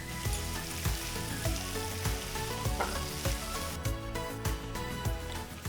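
Ivy gourd (tindora) frying in a pan for a dry stir fry, giving a steady, close sizzle with repeated soft clatter and scraping of stirring throughout.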